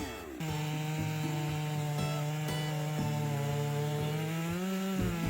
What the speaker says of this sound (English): It is still the same chainsaw, but what it does is beyond imagination.